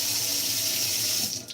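A water tap runs into a sink with a steady hiss and splash, close and continuous, tapering off at the end.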